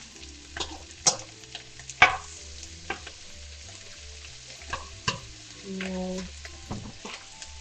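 Food stirred in butter in a pan, a soft steady sizzle under scattered scrapes and clinks of a utensil, close and fairly quiet; a voice speaks briefly.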